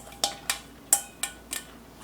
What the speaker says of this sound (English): I'm going to go ahead and add in my diced sweet potato and red onion